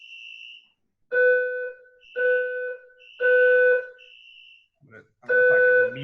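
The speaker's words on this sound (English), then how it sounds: "I have a little alarm going off here." Indoor electronic alarm beeps in repeated tonal bursts, steady and fairly loud, with a pause and a short break before the last burst; no one speaks during it.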